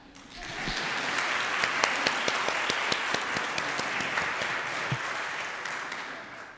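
A large audience gives sustained applause for about six seconds after a traditional music performance. Dense clapping starts quickly and stays steady and loud throughout.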